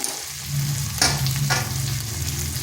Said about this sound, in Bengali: এরপরে মশলাটা ভালো করে একটু কষিয়ে নিতে হবে।